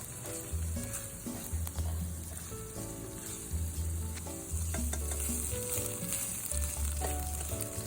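Tomato paste sizzles and fries steadily in a pan while being stirred, with scraping spoon strokes and a dense crackle running throughout, fairly close and without talk.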